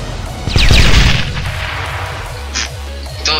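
A heavy booming gunshot with a rumbling tail, followed by two quicker, fainter shots against a steady electronic hum, in the Roblox game Elemental Battlegrounds.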